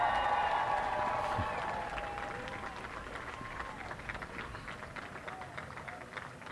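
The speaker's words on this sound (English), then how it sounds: "Lots of applause on the ground here" Applause and cheering fill Virgin mission control as a spacecraft crosses into space, a steady crowd clapping heard mid-distance beneath people talking.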